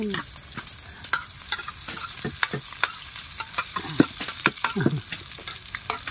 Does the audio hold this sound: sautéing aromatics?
yes